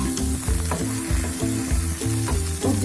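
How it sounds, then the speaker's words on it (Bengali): Potato, eggplant and plantain chunks fry with green chillies in a pan for Bengali teto shukto, giving a steady close sizzle broken by regular stirring scrapes about every half second. "আমাদের আলু, বেগুন, কলা এগুলো প্রায় ভাজা ভাজা হয়ে এসছে"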